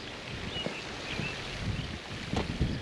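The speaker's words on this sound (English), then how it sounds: "At least the wind's blowing a little, as you can tell." Outdoor wind blowing steadily on a scorching summer day, a soft broadband rush with gentle gusts and light microphone buffeting, no voices.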